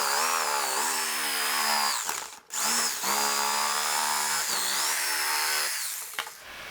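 Power tool cutting a polyethylene sheet end cap for a Dodge diesel fuel tank modification, a loud high whining buzz that runs almost continuously, with one brief stop near the middle and a tapering finish.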